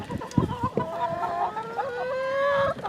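A red hen clucks in a homestead yard on a morning, with several short calls early and then a sustained, rising tonal vocalisation, fairly close and clear, with no talking over it.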